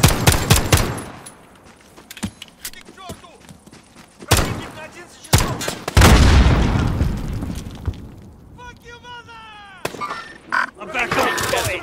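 Call of Duty: Modern Warfare gunfire crackles in sharp bursts and single loud shots throughout, with a heavy booming blast near the middle and scattered game effects between volleys.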